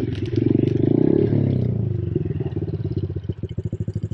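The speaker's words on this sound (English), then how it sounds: "My wheel's really clicking and it's making loads of bad noises, like crackling" A Honda CRF110 pit bike with a failing wheel bearing rattles and crackles as it rolls, a rapid rough clatter under the engine that turns into a slower rhythmic knocking toward the end.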